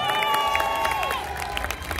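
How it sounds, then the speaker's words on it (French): Audience at Disneyland Paris applauding and cheering a special-effects crew member of the Armageddon attraction, dense clapping with whistles and shouts, loud and sustained, dipping slightly toward the end. "Merci de l'applaudir très fort, Alessandro."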